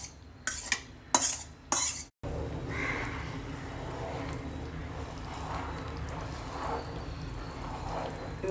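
Fried gram flour mixture being stirred into thick coffee-decoction sugar syrup for Mysore pak, opening with a few sharp spoon taps against the pan, then a steady low bubbling sizzle with soft scraping strokes.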